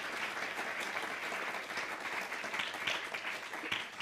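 Steady applause from an audience at a junior magic competition fills the full length, a dense, even patter of many hands clapping at moderate distance with no voices.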